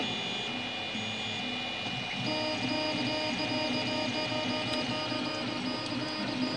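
A 3D printer with a new hot end carriage setup prints a torture cube, humming and whirring steadily at a moderate level, with faint motor tones shifting throughout and no voices.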